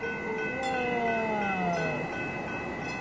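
Redlands passenger rail train arriving, a loud steady horn chord sounding near and then sliding slightly down in pitch, with a rumbling rail background throughout.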